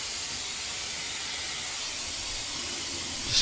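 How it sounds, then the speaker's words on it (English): A hairdryer held at a distance blows steadily while a beard is combed down, a constant close airy roar with no talk. "Just going to comb it down like this with the hairdryer this far away from it"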